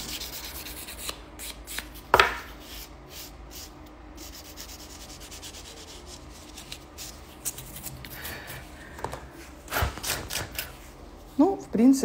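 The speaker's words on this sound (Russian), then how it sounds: "Вот видите, я бьюсь пилкой." A nail file scrapes over acrylic gel nails in a steady, soft rasping rub, close and fairly quiet, with a few sharper taps along the way.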